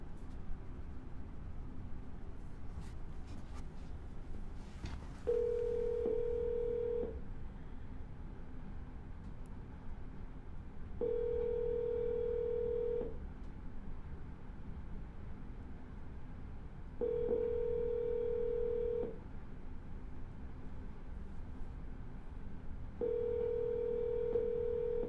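A phone placing a repeat call gives a ringback tone in four evenly spaced bursts, each about two seconds long, steady and clear over a quiet line with no talking.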